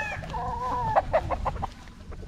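Young roosters (stags) on a farm clucking and calling in a quick run of short, fairly close bursts, with a longer crowing-like note near the start and no talking.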